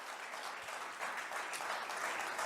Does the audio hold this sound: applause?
yes